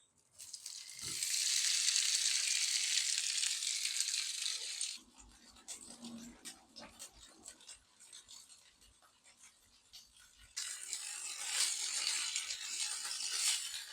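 Tofu sizzles and crackles loudly in a hot frying pan, a bright steady hiss that drops away midway while quieter clinks and scraping follow, then the sizzle returns strongly at the end.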